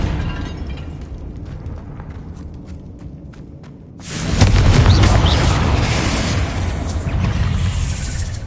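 A Confringo blast spell from Hogwarts Legacy detonates about halfway through, a sudden loud explosive burst that swells into a sustained, roaring rumble after a quieter stretch of faint ambient clicks.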